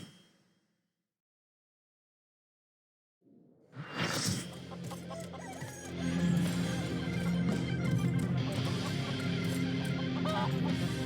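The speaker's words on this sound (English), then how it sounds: "Chicken is behind him still." Chicken clucks from the video game Final Fantasy XIV start after a brief silence, then carry on steadily alongside game background sound.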